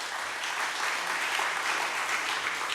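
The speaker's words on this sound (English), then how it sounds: "Let's give them a round of applause." A crowd at a California clean-money democracy rally breaks into applause, a dense, steady wash of many hands clapping that holds at full strength throughout.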